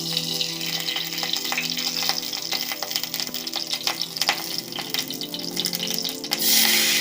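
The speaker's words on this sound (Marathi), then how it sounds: "आणि पाणी घातले मी अर्धा पेल्यापेक्षा जास्त पाणी घातले" Water pours into a heated pan already greased with a spoonful of ghee, giving a steady splashing gush with a brief louder hiss near the end, over faint background music.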